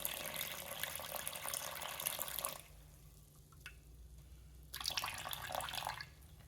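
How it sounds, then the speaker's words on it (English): Warm tap water running from a faucet to temper cold water for bread dough, a steady close rush that stops for a couple of seconds, then starts again. "so just gonna add some warm water from here to make it, a bit more room temperature."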